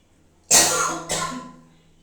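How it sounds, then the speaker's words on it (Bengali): Two close, harsh coughs from someone with a cold, the first louder and the second slightly weaker, in a quiet home kitchen while making pizza. "ঠান্ডা লেগে গেছে তাই কাশিটা বেড়েও গেছে"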